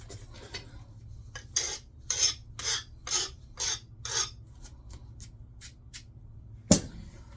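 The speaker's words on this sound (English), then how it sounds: "especially up here towards the tip, I'm going to sharpen my flaker" Pressure flaker being sharpened for flintknapping, a series of about eight rhythmic rasping strokes like filing, close and distinct, then lighter quick rubs and a final sharp scrape.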